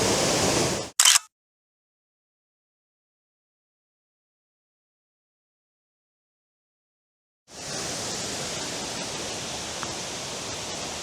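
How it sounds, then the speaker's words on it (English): Roaring rush of the Ffrwdgrech waterfalls in the Brecon Beacons, broad and constant, cutting out into a long silence before the steady wash of water returns. "I've come down to the second waterfall."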